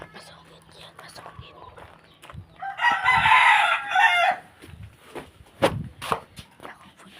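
A rooster crows loudly for about a second amid quieter hens clucking, with scattered soft whispering voices and faint household noises around it.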